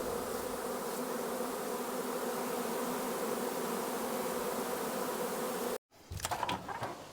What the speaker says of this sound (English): We have a swarm of bees that are coming in hot.